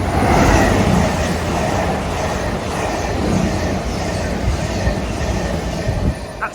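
A cross-country passenger train from Bournemouth to Manchester Piccadilly runs through a station at Hinton Admiral, a loud, steady roar of wheels and rail clatter with faint squeals, close and continuous.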